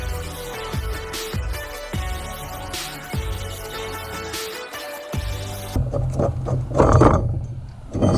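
Ratchet clicks come in repeated bursts as the stuck brake caliper bracket bolts are loosened on a Peugeot 206, close and loud, ending in rattling mechanical handling noises.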